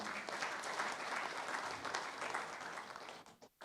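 At a graduation celebration for master's accounting graduates, the audience claps continuously and fairly evenly, the applause thinning and breaking off near the end.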